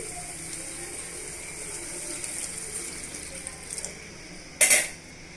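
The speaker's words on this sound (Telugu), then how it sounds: "ఇప్పుడు ఇందులోనే మనం ట్యామరన్ జ్యూస్ని యాడ్ చేసుకోవాలి" Tamarind juice pours into a pot of hotel-style sambar, a faint watery gushing over low background noise that ends in a brief louder splash.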